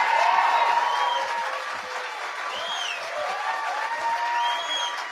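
Audience applause and cheering fill a political speech hall, a steady dense wash of clapping with scattered whoops and crowd noise throughout, loud and sustained.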